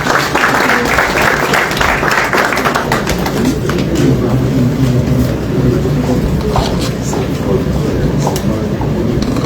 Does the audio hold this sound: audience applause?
yes